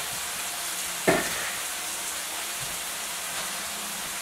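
Marinated pork fajitas frying in a pan indoors, giving a steady, soft sizzle throughout with one brief sharper crackle near the start and no talking.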